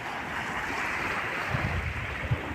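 Ocean waves wash along a beach shore at Punta Harina in Ilihan, Batangas, a steady hiss of surf with a few soft low thumps, mixed with wind buffeting the microphone.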